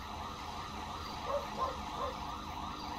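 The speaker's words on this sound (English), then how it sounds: "Ambulance. Assistance required in Sandy Shores." An ambulance siren in the video game GTA V wails faintly with a repeating wavering rise and fall, sitting low in a steady background hum.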